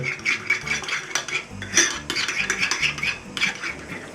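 A spoon stirring vegetables with pepper and salt in a metal dish, busy close scraping and clinking against the sides, with no voices.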